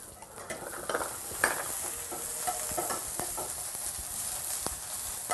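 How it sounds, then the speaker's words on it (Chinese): Garlic, scallion and chili stir-fry in oil in a flat pan with a steady soft sizzle and occasional clinks of a utensil against the pan, fairly quiet and close. "我们现在要爆香什么？ 我们蒜头，厨王四宝， 蒜， 对，葱蒜辣椒"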